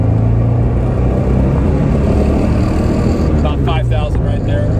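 A 1971 Fiat 124 Sport Spider with a five-speed gearbox revs steadily toward about 5,000 RPM, a loud, continuous engine drone that holds for several seconds, with a faint voice beneath.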